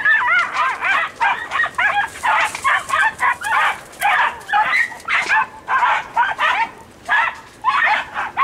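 Andalusian podenco hunting dogs in the field during hunting season bark and yelp in quick overlapping bursts, loud and close, with excited whimpering yips between barks.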